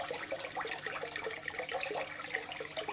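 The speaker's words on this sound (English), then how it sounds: "the water's now flowing up, and it's flowing through the sponge from the back to the front" Water from an Aquael ASAP 700 internal aquarium filter gurgles and splashes steadily, with fizzy bubbly trickling close by and no voices.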